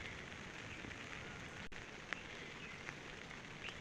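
Steady rain falls on village paddy fields, pattering on surfaces, a soft, continuous hiss with a few sharper drips standing out.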